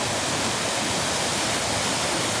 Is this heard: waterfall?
yes